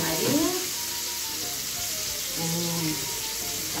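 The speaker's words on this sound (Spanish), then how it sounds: "Primero se fríe con harina" Flour-coated cod frying in plenty of oil, a continuous close hiss and sizzle, with a voice speaking faintly over it at moments.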